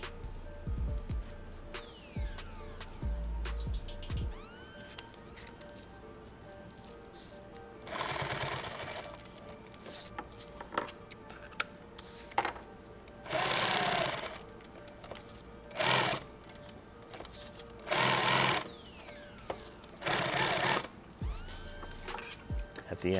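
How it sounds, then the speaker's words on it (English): A sewing machine stitches twisted multi-strand thread in short loud bursts with pauses between them, running forward and backward to back tack and lock the seam, close by, with a voice talking in between. "At the end, I'm just back tacking forward, backwards a couple times, locks it in"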